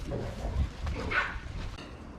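A small dog barks a few quick, close yips with a faint whimper between them, fairly soft against a quiet backyard garden setting.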